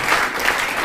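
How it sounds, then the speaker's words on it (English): Steady, full round of applause from an audience at a community meeting, a dense wash of clapping that holds at an even level throughout without voices on top. "That was a round of applause for Maria."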